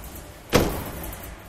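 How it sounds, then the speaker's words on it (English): The doors of a food service tray trolley in a kitchen docking system swing open with a single soft thud and rattle against a steady background hum, with no talk. "We open the doors."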